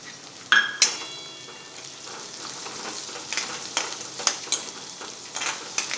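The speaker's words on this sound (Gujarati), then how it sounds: "હવે કાંદાને આપણે 2 મિનિટ આછો ગુલાબી થાય ત્યાં સુધી આપણે ચડવા દઈશું" Sliced onion sizzling in hot oil with peanuts and chillies, a steady frying hiss broken by sharp clatters and scraping stirs throughout.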